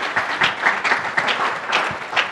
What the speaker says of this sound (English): Round of applause for Dev Mountain.